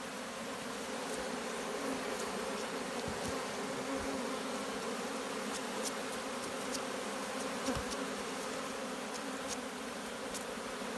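Bees hum in a dense, steady drone around a hive left in its natural state, close and continuous, with occasional sharper passes of single insects.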